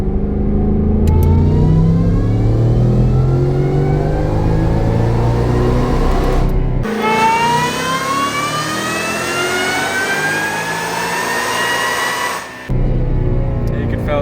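A supercharged S650 Mustang roars through a dyno pull, engine climbing in pitch through two sweeping, loud revving runs with a brief break between them; voices talk faintly underneath.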